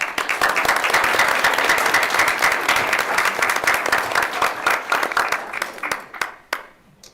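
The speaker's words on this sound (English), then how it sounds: "if we give a round of applause" A room at a school board meeting breaks into a hearty round of applause. Thick, loud clapping holds steady for several seconds, then breaks into scattered final claps and falls quiet.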